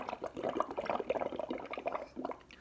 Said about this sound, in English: You come down here and you blow bubbles in it.